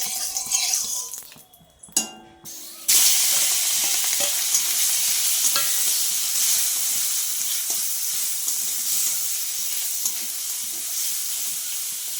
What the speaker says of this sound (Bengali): আগে চিংড়ি মাছটা ভেজে নেব